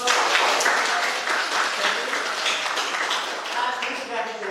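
Applause from a classroom group of students, steady dense clapping held at a constant level throughout, close and fairly loud with no pauses.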